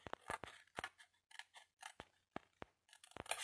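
Scissors snip through a piece of material in quick, sharp, close cuts, a rapid string of crisp metallic clicks separated by short pauses, with no talking.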